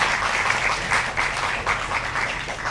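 Dense audience applause from a crowd at a Tamil stage event, steady and continuous throughout with no voices over it.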